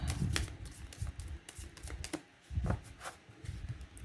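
Tarot cards being shuffled by hand in a series of quick riffling, clicking bursts with short pauses between them, close and fairly soft, with no talking over it.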